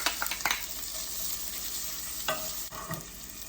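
Garlic and sage frying in olive oil in a pan, a steady close sizzle with a few scrapes and stirring clatters on top, no talking.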